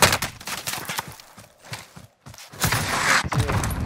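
Explosive gunfire and grenade blasts from a shooter video game, a dense, loud barrage of sharp bursts with a brief lull near the middle before the firing resumes and continues steadily.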